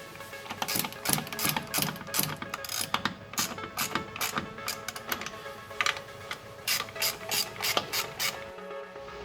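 Quick ratchet clicks ring out in steady bursts as bolts are tightened down on new FID fuel injectors in a Honda Integra, close and crisp over a low hum, with a short pause near the end.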